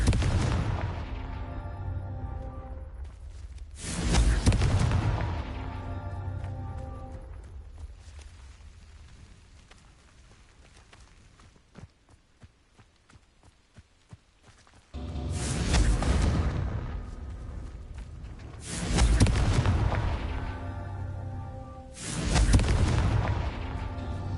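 Confringo blasting spell explosions in a video game: four loud booms, each with a rumbling tail, and a quieter stretch of faint crackles between the second and third.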